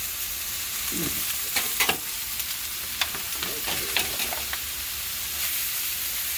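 Unmarinated chicken sizzles steadily on a hot 22-inch Blackstone griddle, with occasional scrapes and taps of a utensil moving it around, close up.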